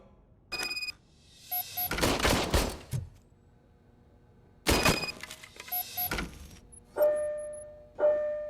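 An old service pistol fires in the RoboCop: Rogue City video game, with several loud sharp bursts of gunfire separated by quiet gaps and ringing mechanical tones after the shots.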